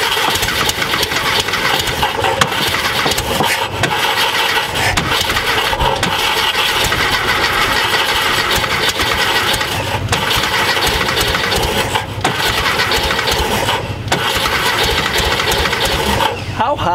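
Air-cooled engine of a VW Thing Type 181, left sitting for 32 years, running loud and steady close by on a cold day, with some voices mixed in.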